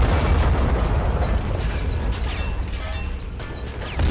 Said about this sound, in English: the Tans are pounding the Reds with artillery over here